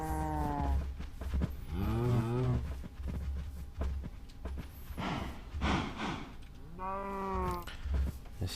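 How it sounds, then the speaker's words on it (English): Cattle in the game Minecraft moo repeatedly, several drawn-out low calls overlapping one another at close range with no talking. "One thing I will say actually though about cattle that I dislike is the noise."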